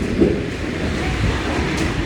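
A Paris metro train rumbles steadily inside the underground, a dense low roar with faint rattling and no voices above it.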